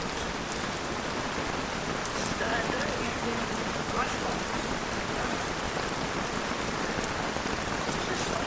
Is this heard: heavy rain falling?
yes